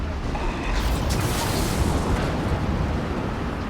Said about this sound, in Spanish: Está muy cerquita, la explosión nos agarra a los dos